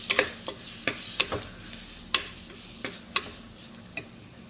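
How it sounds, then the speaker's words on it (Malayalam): Chopped tomato sautéing in a pan for a mackerel curry is stirred with a utensil, giving sharp scraping clicks at irregular intervals over a faint, steady sizzle, with no talking. "അത് നന്നായിട്ടൊന്ന് വഴറ്റിയെടുക്കണം."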